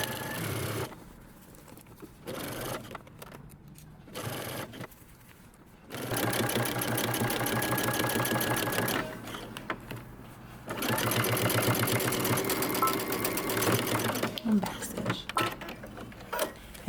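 A sewing machine stitches a jumpsuit collar in two long steady runs of rapid mechanical whirring, separated by quieter stretches where a person talks.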